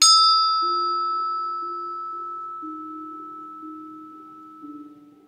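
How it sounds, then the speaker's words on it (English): A single bell is struck once for energy clearing before a Rider-Waite tarot reading, ringing a clear sustained tone that slowly fades over several seconds, with a faint second touch near the end. "with a little tone from the bell."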